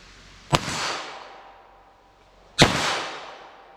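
Two sharp .22 LR Stinger rimfire gunshots from a handgun ring out about two seconds apart, each a loud crack followed by a decaying echoing tail on an outdoor range.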